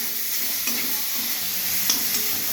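Mango pieces for sour lentil dal sizzle steadily in hot oil, with a few spoon scrapes and stirring knocks over the continuous frying hiss.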